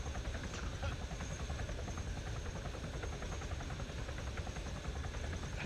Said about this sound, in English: That's what happens when the wheels hit the ground for landing.